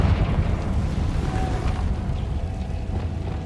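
The Confringo fire-blast spell in Hogwarts Legacy explodes as a loud, sustained, rumbling roar of blast and crackling debris that fills the whole stretch. No talking.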